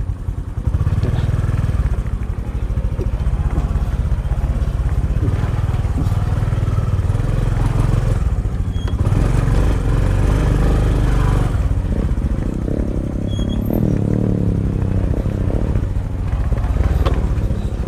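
A Honda XRM 125 Fi motard motorcycle on a ride up to a hilltop in Montalban drones loudly and steadily up close, with engine revs rising and falling and some rattling along the way.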